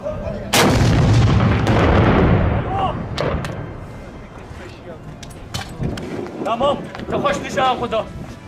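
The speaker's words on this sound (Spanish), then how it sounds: "las fuerzas democráticas kurdas decidieron arrancar el problema de raíz, sacando la artillería pesada" Heavy artillery fires from Kurdish forces, opening with a loud close boom and a long rumbling tail, then more distant thuds under wind noise, while people shout nearby.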